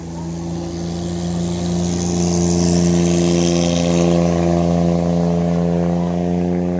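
Yanmar 3TNE diesel engine on a 6.7 m wooden boat starts up and settles into a steady, loud, throbbing idle, swelling slightly in volume a couple of seconds in and then running evenly.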